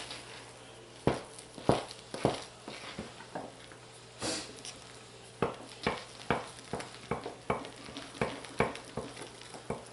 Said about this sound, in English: I'm going to go ahead and stir it